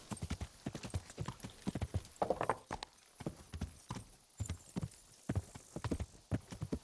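Horse hooves clip-clopping on the ground in Kingdom Come: Deliverance, a close, loud and steady walking rhythm of hoof strikes throughout with no talk over it.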